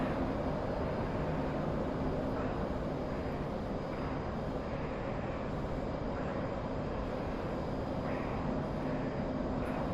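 An F-4 Phantom jet engine runs with afterburners lit, a loud, unbroken roar that stays constant throughout with no voices.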